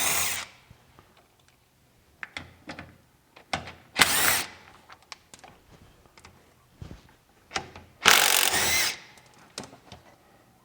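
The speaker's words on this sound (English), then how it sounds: "I'm going to go ahead and remove the filter on the right hand side. Again, these are 3/8-inch bolts." Power drill spinning out 3/8-inch bolts on the filter of a zero-turn mower's hydro-drive during an oil service, heard as several short whirring bursts with two longer, louder runs between quiet pauses and small clicks.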